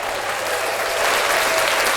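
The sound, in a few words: applause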